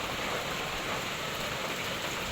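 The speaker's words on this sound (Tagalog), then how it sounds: "Biglang bumuhos ang ulan." Heavy rain pours down in a dense, steady roar of drops with no breaks. No one speaks.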